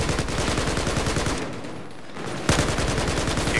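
Rapid automatic gunfire in the video game Battlefield 4, loud and close, in sustained rattling bursts that pause briefly before resuming.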